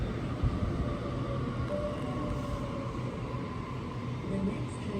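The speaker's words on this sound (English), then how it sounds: "And a Penrith train." A Sydney Trains passenger service bound for Penrith passes through Doonside Station, giving a steady broadband rumble and rail roar that holds at an even level throughout, with faint tonal squeals above it.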